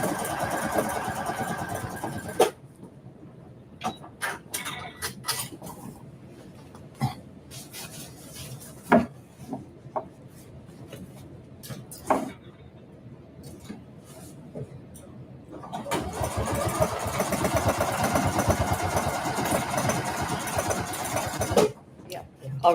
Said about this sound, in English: So now I'm sewing the canvas.